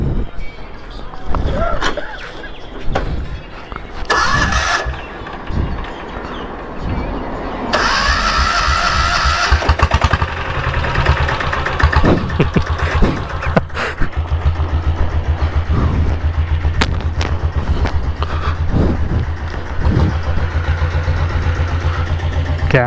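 A diesel Bullet motorcycle engine from Kerala, fitted with classic tyres, starts and then runs with a loud, close, thumping idle and a mechanical cam clatter, while people talk over it at times.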